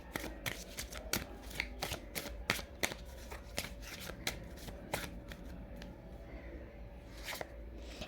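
A tarot card deck is shuffled by hand in a run of quick, crisp riffling snaps and soft slides, close and quiet, repeating irregularly across the stretch with no talking.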